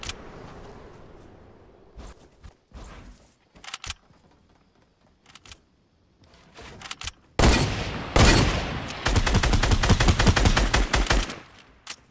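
Video-game gunfire in a duo match, with scattered loud single shots early on, then a dense burst of rapid repeated shots toward the end, close and punchy over brief gaps of quiet.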